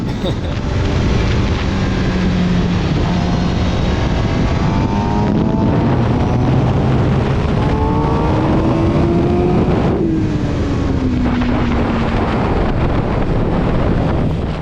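A motorcycle lapping the race track at The Ridge Motorsports, its engine note rising and falling through gears and braking into a corner, buried under a constant heavy roar of wind rushing past the microphone.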